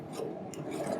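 A file rasps steadily across the depth gauges of a chainsaw chain, a close, continuous scraping of metal on metal with no talking.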